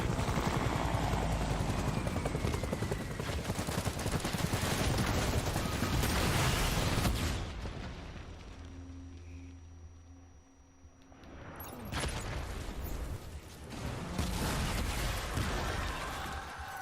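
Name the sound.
explosions and gunfire in the video game Death Stranding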